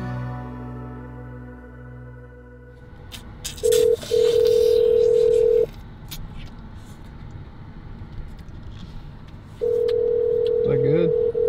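A telephone call being placed: a low dial tone fades out, then steady ringback tones sound twice in long bursts, with road-vehicle noise and faint background sounds in between.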